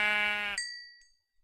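A single sheep bleat in a Minecraft-style video game, a short nasal cry followed by a ringing tonal chime that fades out, heard alone.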